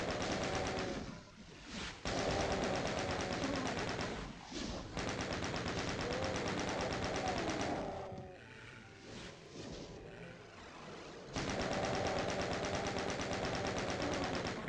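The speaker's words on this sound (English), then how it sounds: "Let's go ahead and use chain gun." A chain gun fires at enemies in classic Doom, with long loud bursts of rapid automatic fire broken by brief pauses and a short lull, set against monster roars and growls.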